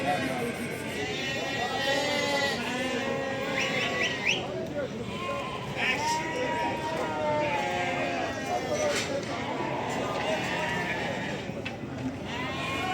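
Sheep bleat repeatedly at a livestock market in Barda, several animals calling near and far over a busy crowd with people talking throughout.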